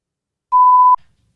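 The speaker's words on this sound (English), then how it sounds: "they should have bleeped this" A single steady censor bleep covers a phone number read aloud on a morning radio show, lasting about half a second, loud and clean, then cutting off.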